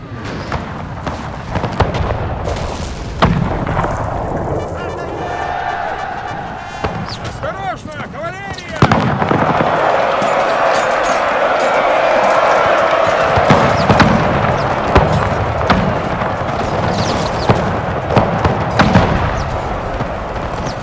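Musket volleys and artillery fire in the video game Napoleon: Total War, a dense battle din of repeated thuds, crackling shots and booms over a steady rumble, with someone talking throughout.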